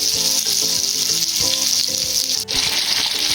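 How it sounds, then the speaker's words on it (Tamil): Fish sizzles in hot oil in a pan, Chennai-style fry, a loud steady crackle with one brief dip partway through; no one speaks. "இப்போ இந்த பக்கம் ஒரு 2 நிமிஷம் வேகட்டும்."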